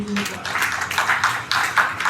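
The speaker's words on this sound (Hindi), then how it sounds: "ताली बजाएंगे" Several people clap their hands together in a group, bursts of quick, fairly close claps that come and go in uneven waves, with a brief voice at the very start.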